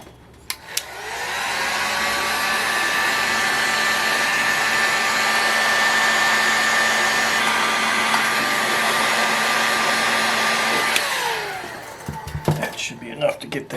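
Loud steady blower roar, like a heat gun, heating an engine crankcase to fit a bearing, running about ten seconds before cutting off, with faint handling noises after.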